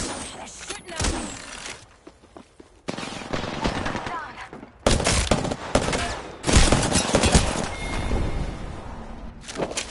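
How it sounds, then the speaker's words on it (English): Gunfire in the Apex video game: repeated loud bursts of automatic fire and shots, close and intense, with short pauses between volleys and some game mechanism noises, no talk. "They're shooting at me."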